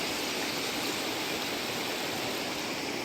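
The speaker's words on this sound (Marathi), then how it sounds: "ते पहा तिकडे धबधबे आहेत त्या साईडला" Steady broadband rush of falling and flowing water, constant and even, from waterfalls and a river at Shirgaon, Khed, in rain, heard from nearby with no voices.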